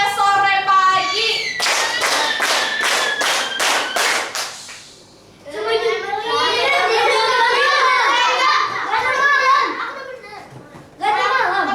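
A class of schoolchildren claps in a fast, even burst of about seven sharp beats during a clapping game. Lively chatter and shouting from the kids comes before and after the claps.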